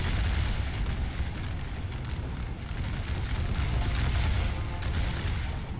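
Continuous rumbling musket volleys and artillery booms from an American Civil War strategy game battle, a dense, steady roar of distant gunfire with no clear individual shots, no talk.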